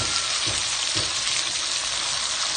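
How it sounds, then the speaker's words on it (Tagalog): Fermented rice fish (burong isda) sizzles loudly and steadily in a frying pan, a close, continuous hiss with faint stirring knocks near the start. "Ayan po, pwede na po natin ilagay ang ating burong isda."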